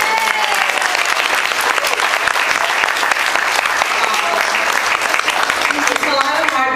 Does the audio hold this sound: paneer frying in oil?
no